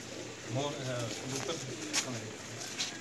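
Pigeons coo in soft, rolling low calls, several in succession, close by on a rooftop, with a few brief background noises.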